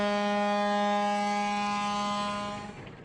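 The riverboat Bou El Mogdad sounds its deep, steady siren on departure from the quay in Senegal, one long sustained blast that fades out near the end.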